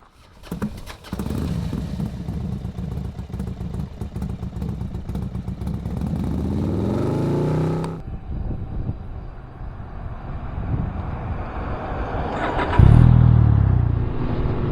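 A Can-Am Ryker three-wheeled motorcycle rides along park trails at a Pennsylvania state park in early June, its engine droning steadily with a rising rev, then a shift to lower rumble, wind buffeting the microphone and a loud thump near the end.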